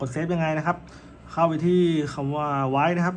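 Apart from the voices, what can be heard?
No everyday noises stand out.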